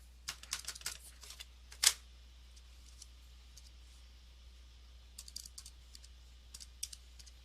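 Quick bursts of button presses on a calculator while numbers are entered, in two clusters of soft, close clicks with a pause between them and no talking.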